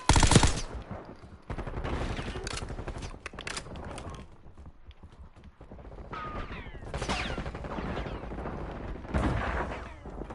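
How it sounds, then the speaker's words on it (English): Rapid automatic gunfire and scattered shots crackle through a Black Ops 6 battle royale match, coming in loud bursts with short lulls between them and no voices over the firing. "Taking effective fire."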